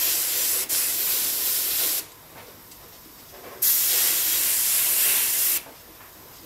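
Airbrush spraying paint faintly between stencilled trees, heard as two sustained bursts of airy hiss with quieter gaps between, close and steady.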